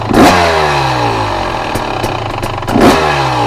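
A KTM, Husqvarna or GasGas TBI/TPI two-stroke motorcycle engine idling close by with light throttle, two short blips rising over a steady, loud idle.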